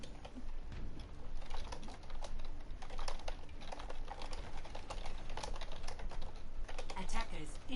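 Rapid, aggressive typing on a computer keyboard during a competitive esports match broadcast, dense irregular clacking that runs without a break, with a voice occasionally talking over it.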